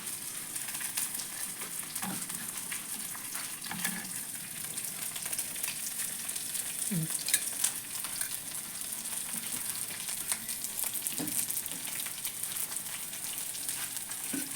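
Sizzling oil tempering for Telugu-style dal, with faint frying crackle and a few sharper pops and stirring clinks, steady and fairly quiet throughout, no talking.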